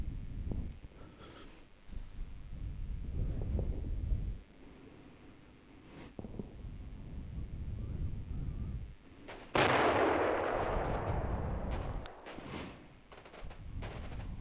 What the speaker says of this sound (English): Gunfire being exchanged.